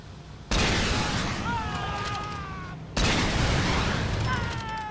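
Two loud rocket launcher blasts destroying objects in the Saints Row video game, each a sudden broadband explosion followed by a rumbling decay with scattered debris and whistling effects.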